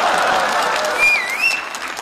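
Neighbours applauding at a home comedy performance: a dense, steady burst of clapping from a small crowd that lasts about two seconds, with faint whistle-like tones rising above it.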